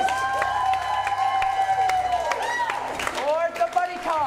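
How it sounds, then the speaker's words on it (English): Live audience at an improv comedy show clapping and cheering steadily throughout, a dense crowd roar with whoops and shouts rising and falling, loud and close. "let's get clapping going for everyone. Cheer the loudest for the film you want to go on"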